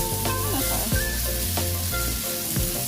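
Thai sam kluea paste dry-roasts in a pan with a dense, steady crackle close up, broken by several sliding scrapes of a utensil across the pan.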